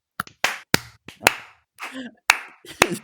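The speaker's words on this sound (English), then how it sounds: "Everybody clap. Everybody clap." Podcast participants clap during a recording session, giving a handful of sharp, close claps and slaps scattered unevenly, mixed with short bursts of talk and laughter between them.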